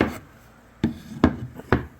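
Three slow rasping strokes sanding a wooden shelf, close and fairly quiet, each a short gritty scrape separated by brief pauses.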